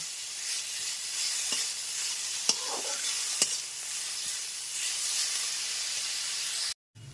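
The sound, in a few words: ginger garlic paste frying with onions, stirred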